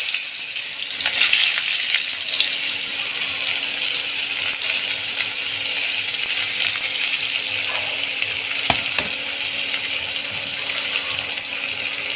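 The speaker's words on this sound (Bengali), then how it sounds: "ডিম ভাজা তেলের মধ্যে আমি আগে থেকে পেঁয়াজ কুচিয়ে রেখেছিলাম পেঁয়াজটা দিয়ে দেবো" Chopped onion is added to hot oil left over from frying eggs, producing a loud, steady, hissing sizzle that continues evenly for about twelve seconds with no talking.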